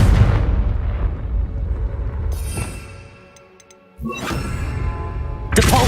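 Confringo blasting spell in Hogwarts Legacy: a loud rumbling explosion that slowly fades to near silence, then a second sharp blast erupts with a sustained roar and another burst right at the end.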